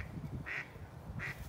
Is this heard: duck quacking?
yes